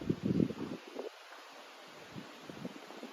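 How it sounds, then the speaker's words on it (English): A big gust of wind sweeps through and brings down large dead autumn leaves. A burst of rustling comes in the first second, then fades to a low, soft breezy hiss. "Big gust of wind comes down, all the big dead leaves are falling."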